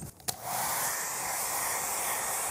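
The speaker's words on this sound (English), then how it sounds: "I'm gonna try and dry the paint really fast with my hairdryer" After a brief click, a hair dryer starts up and blows with a steady, close, breathy roar, drying paint.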